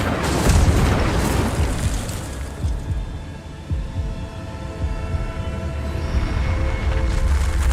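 Incendio fire spell cast in Hogwarts Legacy, a loud booming whoosh with deep rumbling that rolls on and settles into a sustained roaring drone with layered tones, no voices.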